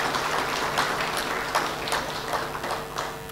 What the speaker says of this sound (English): Can we clap for the National Bank